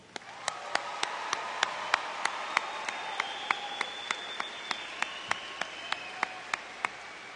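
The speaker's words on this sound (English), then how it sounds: "give the grad class a round of applause right now" A crowd at a high school graduation ceremony applauds the graduating class, a steady, sustained wash of clapping with faint, regular sharp ticks running through it.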